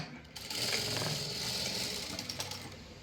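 A sewing machine runs steadily at close range, stitching two pieces of fabric together for the back part of a garment, with an even mechanical whir and a rapid needle patter.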